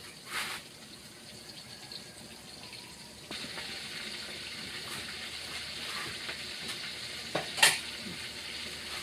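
Fermented fish (pla som) coated in flour batter fries in hot oil, a steady hiss that thickens partway through, with a couple of louder spattering bursts rising over the sizzle.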